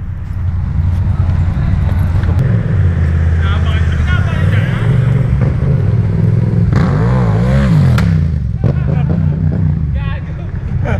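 A motorcycle revs hard during a wheelie at a bike night, its loud engine rising and falling, with a crowd chattering and voices talking over it.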